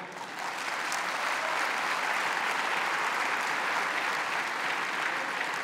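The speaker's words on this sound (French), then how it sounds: "je ne sais pas pourquoi vous applaudissez" Steady, dense applause from an audience of real estate agents at a property congress, filling the hall continuously at an even level with no speech over it.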